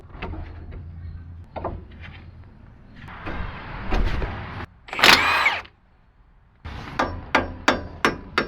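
Hammer strikes driving out a brake caliper pin on a car, sharp metallic blows in loose groups, with scraping and clattering work noises between them and a fast burst of hits at the end.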